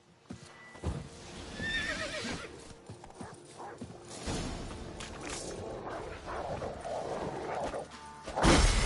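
Roach, Geralt's horse in The Witcher 3, neighs loudly amid hoof clops and ambient game sounds, with a sharp burst near the end.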